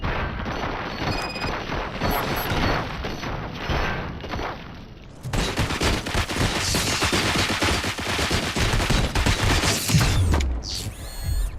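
Dense gunfire from soldiers in RoboCop: Rogue City, a sustained rattle of rapid shots and mechanical clatter that thickens into a louder, continuous barrage partway through, with booms near the end.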